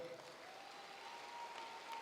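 An audience at a graduation ceremony applauds with faint, steady, distant clapping that lasts briefly throughout.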